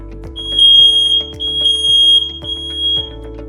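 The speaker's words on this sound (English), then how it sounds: "Does the alarm sound using the test spray?" A smoke alarm, set off with test spray, sounds loud, piercing high-pitched beeps in repeated bursts, with faint rhythmic clicks underneath.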